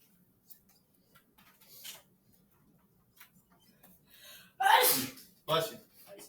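A single sharp sneeze bursts out in a quiet classroom, followed by a shorter second burst, with faint background murmurs and light ticking around it.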